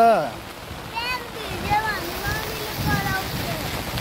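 Rain-swollen stream water surges with a continuous hissing rush, with children's voices speaking intermittently on top of the flow.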